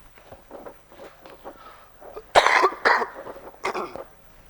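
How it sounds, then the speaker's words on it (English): Several harsh, close coughs in quick bursts, after quieter shuffling and breathing sounds. "Bloody cough."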